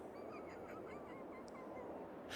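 Farming Simulator 22 duck honking and quacking, a few repeated calls over steady loud background noise.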